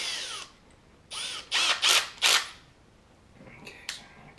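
A power drill with a bit bores through plastic sheet in several short, loud bursts of whirring and cutting, separated by quieter gaps, close by with no talk.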